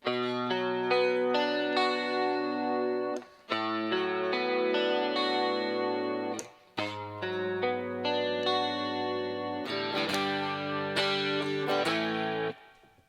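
An electric guitar strums a slow progression of sustained chords with chorus-like effect, each chord ringing for a few seconds before the next change.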